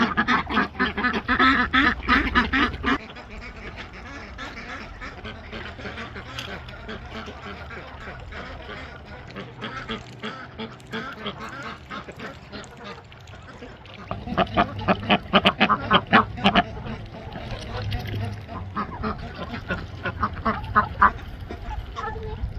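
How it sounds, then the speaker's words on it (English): Ducks quack repeatedly in rapid nasal runs, loud and close, with a quieter stretch in the middle before the quacking picks up again. "I already put some out for the ducks and Mumbles."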